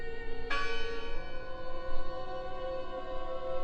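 A church bell in a video game rings once with a sharp strike, its tone ringing on and slowly fading over a low rumbling background.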